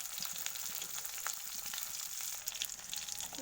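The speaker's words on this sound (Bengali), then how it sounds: "মাছগুলো ছোটো কাটা হলেও এটাকে ভাজতে হয় ধীরে ধীরে।" Small cut pieces of singi fish frying slowly on a low gas flame, a continuous fine crackling sizzle with scattered pops, close and steady, no talk.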